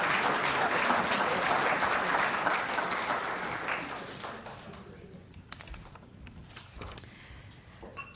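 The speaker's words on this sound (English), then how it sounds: "I would like you all to give one more round of applause to those wonderful students" A luncheon audience applauds scholarship students, a dense round of clapping that fades out after about four seconds, leaving a few scattered claps and soft room noise.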